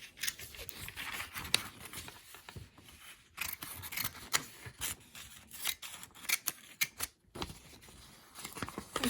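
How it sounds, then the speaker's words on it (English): Sharp-tipped scissors snip through paper in quick, irregular bursts of crisp cuts, close and fairly loud, with short pauses between runs of snipping. "So I usually like this scissor, like a sharp one on the tip, like a tip one, so you can cut it."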